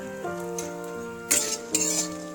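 Chopped gourd greens (lau shak) frying in oil in a pan, a soft steady sizzle with a spoon scraping and clinking against the metal twice, close up and without any talk.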